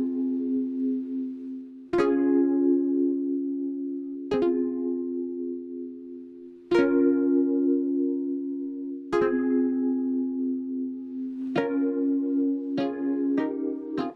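A synthesizer plays sustained chords in a music track, with a new chord struck every couple of seconds and each one ringing out and decaying before the next, with quicker changes toward the end.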